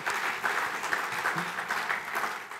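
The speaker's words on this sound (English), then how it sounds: "A big applause for them being a member" Applause at a Hall of Fame awards dinner for a sponsoring member, the Los Angeles Department of Water and Power: a crowd clapping steadily and fairly loudly, with a full, continuous texture.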